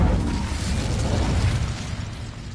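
A fire spell cast in Hogwarts Legacy on PS4 bursts out as a loud, sustained whooshing roar with rumbling low end, steady for a couple of seconds with no voices over it.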